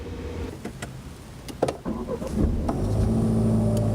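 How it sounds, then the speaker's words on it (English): Several mechanical clicks and whirs, then a Jaguar F-Type Chequered Flag Limited Edition engine fires up close by and settles into a steady, deep rumble. "when you start the car up"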